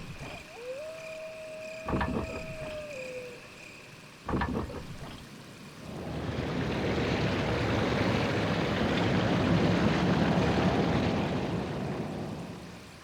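A rushing waterfall in the Resident Evil GameCube game, a dense, steady roar that swells in after a few clanking mechanical knocks and a tone, then holds loud and continuous.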